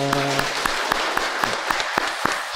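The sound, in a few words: church congregation applause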